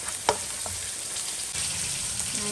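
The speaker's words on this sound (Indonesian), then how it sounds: "Saya goreng-goreng sebentar" Young mango sambal sizzles and fries steadily in a pan after salt, sugar and seasoning go in, with a few sharp stirring clicks over the constant crackle.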